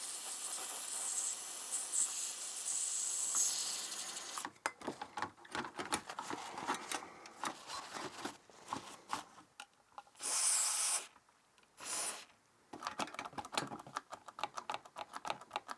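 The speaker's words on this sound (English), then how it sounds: "I'm just going to use a lot of contact cleaner and then wipe off the excess." Contact cleaner is sprayed onto the switches of a 1990s Sony TA-F550ES hi-fi amplifier in short hissing bursts. Faint clicks and handling rattles sit between the sprays, and no one speaks.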